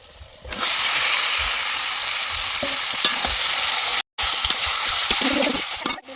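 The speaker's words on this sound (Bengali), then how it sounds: "এবার ম্যারিনেট করে রাখা সেই মাংস এবার কড়াতে দিয়ে দেবো" Marinated meat hits a hot wok and bursts into a loud, sustained sizzle after a brief quiet start. The close crackling drops out for a moment midway, then resumes with light scraping.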